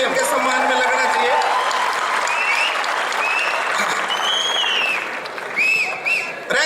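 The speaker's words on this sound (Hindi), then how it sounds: "एक बार जोरदार ताली बजा के इनके सम्मान में लगना चाहिए" A large audience at a college campus comedy show in Jaipur applauds comedian Suresh Albela, loud, sustained clapping that fades slightly near the end, with a voice speaking over it.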